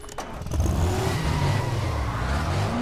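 A car in Dying Light: The Following revs hard and pulls away, its engine roar climbing and then holding loud and close through the rest of the stretch.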